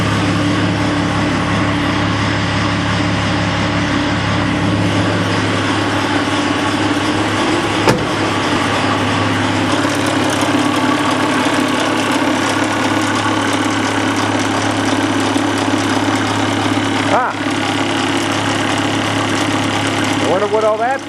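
A 1991 Mercedes W126 350SDL diesel idles after a cold start in freezing weather, a steady low clattering rumble with a faint knock, while someone talks over it.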